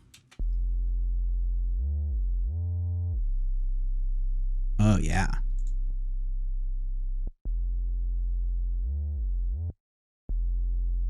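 A deep, sustained synthesized sub-bass tone run through a limiter, stepping between pitches, dense and compressed, with a brief spoken interjection in the middle and a short cutout near the end.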